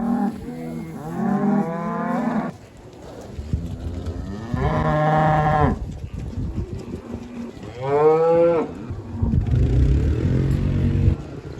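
Cattle waiting for food near a barn give several loud, drawn-out moos in turn, close and bellowing, with short gaps of quieter farmyard noise between calls.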